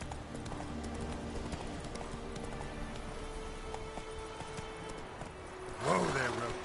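Roach, the horse in The Witcher video game, gallops with a steady rapid clip-clop of hooves under continuous ambient game sound, ending in a louder swell as the horse is reined in.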